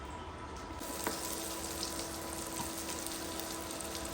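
Sliced onions frying in a pan for street-style egg fried rice, giving a steady, even sizzle that runs unbroken and fairly faint throughout, with no voices.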